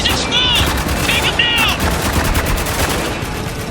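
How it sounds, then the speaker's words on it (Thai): Dense, rapid gunfire crackles through a firefight in the war shooter Spec Ops: The Line, overlapping bursts sustained loudly across the whole stretch with a few sharp metallic pings early on. "ยิงทิ้งยังไม่ตายก็ยิงทิ้ง"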